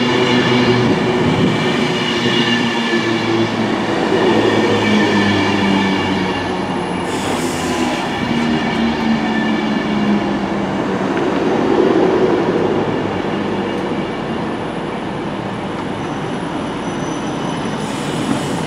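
A Class 390 electric train on Avanti West Coast passes steadily for the whole stretch, a loud sustained rumble with a high electric whine and rolling rail noise, no voices.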